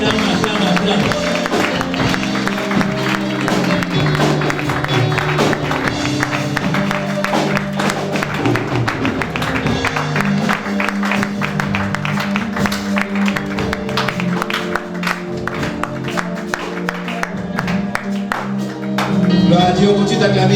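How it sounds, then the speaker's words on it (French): A church congregation applauds and cheers in praise of the Lord, a dense, continuous wash of clapping and crowd noise lasting throughout, with voices raised over it. "on continue d'acclamer"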